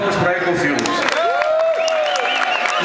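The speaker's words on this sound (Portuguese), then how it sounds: "Uma salva de palmas para a Ecofilmes." Awards ceremony audience at Hard Rock Lisboa applauding Ecofilmes, steady crowd clapping and cheering throughout with a voice talking over it.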